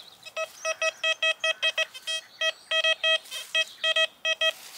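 A metal detector sweeps over a buried target at the foot of a cabin, sending out a rapid, uneven run of bright electronic beeps, about seventeen short bursts, close and clear with no talk.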